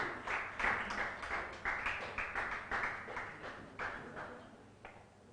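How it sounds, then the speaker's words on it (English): Scattered applause from a conference audience greeting two session moderators, with a few strong hand claps that thin out and fade over several seconds. "Please continue clapping for them."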